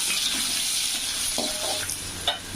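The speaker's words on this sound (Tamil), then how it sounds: "நல்லா பூண்டு, ஒரு 4 பூண்டு பொடுசாக நறுக்கி வச்சுருக்கேன், அது இதில் போட்டு வதக்கிக்கலாம்." Steady hiss and crackle of garlic and onion sautéing in hot oil, with a few clinks of a utensil stirring the pan.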